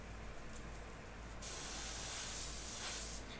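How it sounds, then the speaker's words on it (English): An airbrush sprays paint in a steady hiss while working on a portrait, the spray growing louder and brighter partway through and holding continuous to the end, with no voices over it. "just put it on there and just spray and kind of hit the openings"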